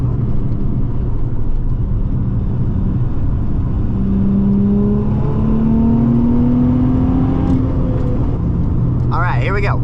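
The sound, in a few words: Nissan 350z engine driving down twisty canyon road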